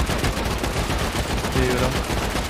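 Rapid automatic fire from a turret during a video game raid, a dense continuous burst of gunshots filling the whole moment, loud and steady with faint voices in the background.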